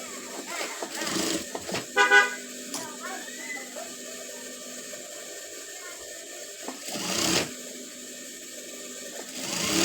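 A sewing machine runs in short, whirring bursts while a boy's pants are stitched, the mechanical chatter rising and falling against a quiet room.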